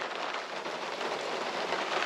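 Steady rain pours outdoors onto a rural lot where gravel sits on landscape fabric, a dense, even hiss that stays loud and unbroken throughout with no voices.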